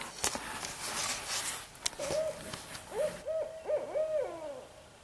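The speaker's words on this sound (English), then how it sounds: "I've been hearing owls out here during the day. I think that's the barred owl." A barred owl hoots outdoors in a rhythmic series of hollow, wavering calls at moderate distance, preceded by a few sharp clanks from digging at an excavation site.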